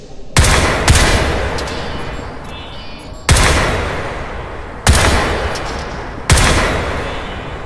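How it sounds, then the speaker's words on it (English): Rifle fire in the video game Crysis 3, four loud separate blasts spaced about a second or more apart, each with a long rolling echo that slowly fades. "Even with fast twitch recoil compensation, rapid fire is inaccurate."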